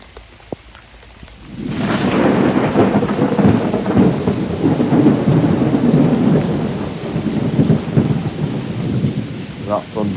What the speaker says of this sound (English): That thunder sounds pretty close